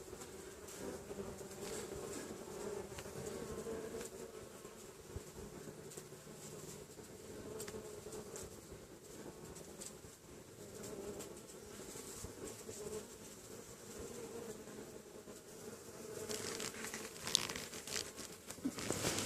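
Honeybees at a hive during a fall inspection make a continuous, fairly faint buzzing drone with occasional crinkling and handling noises and no voices.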